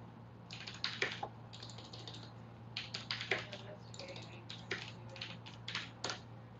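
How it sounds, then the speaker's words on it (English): Keys on a mechanical computer keyboard clack close by in quick irregular bursts, sharp distinct clicks with short pauses between runs, over a low steady hum. "Ah, the sound of mechanical keys."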